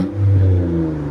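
2014 Honda Accord Coupe with a 3.5L V6 and a muffler delete giving one short, loud, deep rev that swells and then settles, heard close by with no talking.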